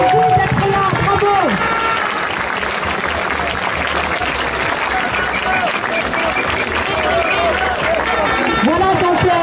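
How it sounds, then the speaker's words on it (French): Crowd at a September 2021 anti-health-pass protest in Nice, France, applauding loudly and steadily throughout, with cheers and a voice over a loudspeaker mixed into the dense clapping. "Un grand applaudissement bien chaleureux aux soignants"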